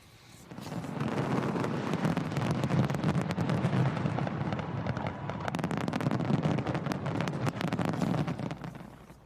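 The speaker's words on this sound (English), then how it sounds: "there was massive fireworks display over the Sydney Harbour Bridge" Dense, continuous crackling and booming bursts from a large New Year's fireworks display over Sydney Harbour Bridge, loud and sustained throughout with no talk.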